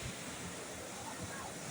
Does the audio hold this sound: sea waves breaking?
yes